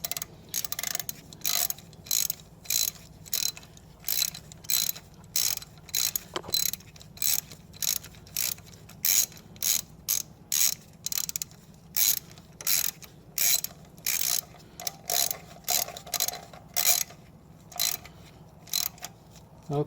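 A ratchet tightening bolts, rapid rhythmic clicking in repeated bursts of cranking strokes with short pauses between, close and steady, no talking.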